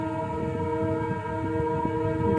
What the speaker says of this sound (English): That's the Dimapur train.